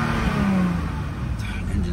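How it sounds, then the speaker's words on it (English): A car engine at a salvage auction lot gets a short rev and idles as a steady low rumble nearby, with a voice speaking briefly over it. "We'll give it a little rev though."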